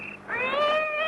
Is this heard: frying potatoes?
no